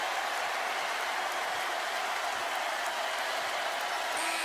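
Raucous basketball arena crowd at a Kentucky vs Tennessee game cheering and applauding: a dense, continuous hiss of clapping and roaring voices, steady and loud throughout.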